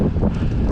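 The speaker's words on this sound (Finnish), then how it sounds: "Aika julma tuuli." Strong headwind buffets the microphone on a bike ride through a village, a loud, low, continuous rumbling roar with no talk over it.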